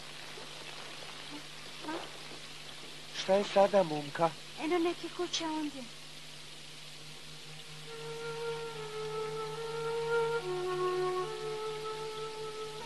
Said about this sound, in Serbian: Baš dobro kisnemo.